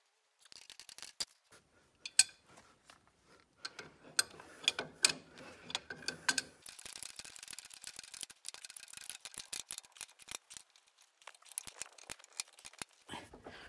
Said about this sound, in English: it's just about attached to the back axle now, after some time, tightening up the nuts.